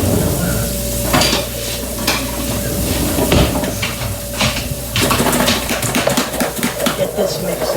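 Onion and garlic sauté in a pan while a wooden spoon stirs them, giving a steady sizzle with repeated scraping and knocking strokes, close by, as a person talks over it.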